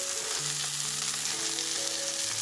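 Catfish nuggets frying in oil in a pan, giving a steady, close, dense sizzle and crackle throughout, with a faint scrape of stirring and no voices.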